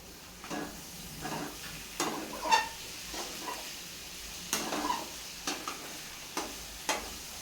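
Green chillies fry in hot oil in a pan, a soft sizzle broken by a string of stirring clicks and scrapes against the metal, fairly faint and close, with no talking.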